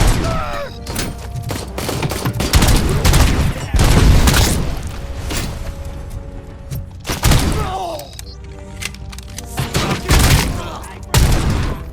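Rapid gunfire in Robocop Rogue City, dense loud volleys of shots and thuds mixed with game music and effects, with voices calling out between bursts.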